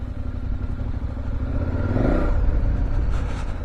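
A KTM 1190 Adventure motorcycle engine spinning up during a test ride, a steady loud engine drone that swells into a rising rev midway with wind and clatter around it.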